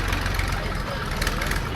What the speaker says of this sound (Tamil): இல்லை ஒரு டிராக்டர் ஒன்று போகுது.